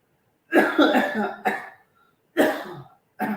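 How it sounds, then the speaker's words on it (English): Several harsh coughs in separate bursts, close and loud, with short pauses between them and no speech. "When I talk, I cough more"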